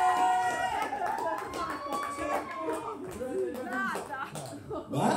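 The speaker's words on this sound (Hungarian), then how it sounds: "Tapsot magatoknak, óriások vagytok" A concert audience at Boomerang Club in Szolnok claps as the performer speaks over them, with music and voices mixed in and the clapping carrying under the talk.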